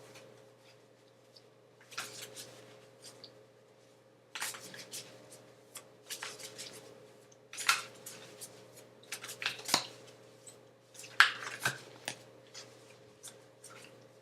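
Tarot cards are handled and drawn from a deck, giving soft, sporadic shuffling and card-flicking snaps up close over a faint steady hum.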